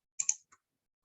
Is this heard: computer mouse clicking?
yes